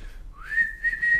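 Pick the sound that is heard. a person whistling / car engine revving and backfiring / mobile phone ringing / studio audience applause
a person whistling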